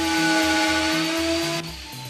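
A router cuts a shallow hinge mortise in a door using a guide bushing, a steady close high-pitched whine with a slight drop in tone near the end.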